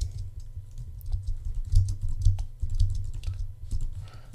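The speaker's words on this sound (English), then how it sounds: "So I'm just going to type in." Typing on a computer keyboard to enter a comment, with steady, close clicking keystrokes in an irregular rhythm over a low hum.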